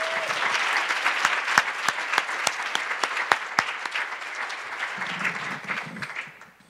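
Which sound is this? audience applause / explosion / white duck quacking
audience applause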